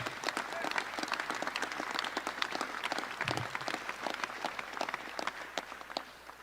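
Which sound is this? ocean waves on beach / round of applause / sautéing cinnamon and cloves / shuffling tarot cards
round of applause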